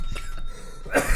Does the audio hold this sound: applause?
no